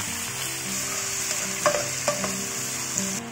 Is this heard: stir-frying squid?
yes